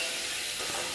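Food frying in a pan while being stirred during a noodle breakfast cook, giving a steady, close hiss and sizzle with no voices over it.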